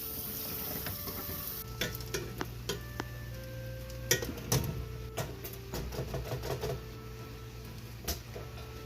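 Rinsed lentils being stirred in a pan, with repeated spoon clicks and scrapes over a faint background sizzle and a low steady hum, close and fairly quiet, no talking.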